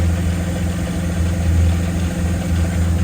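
A neglected car's engine idles steadily with a low hum and light ticking, rattling valvetrain noise running throughout, no talking.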